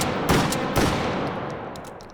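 Two sharp, loud automatic shotgun blasts from a virtual firearm in the game H3VR, fired in quick succession with a slightly slow cycling rate, each followed by a decaying echo and a few faint mechanical clicks.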